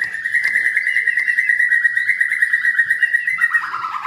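Birds chirp and tweet in a steady, continuous chorus with soft cooing mixed in, fairly close and moderately loud.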